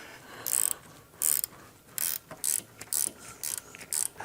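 Ratchet tightening the brake caliper bolts, dabbed with blue Loctite, on a Chevy Nova during a suspension and brake install: seven quick bursts of close, crisp clicking, each about a quarter second, separated by short pauses.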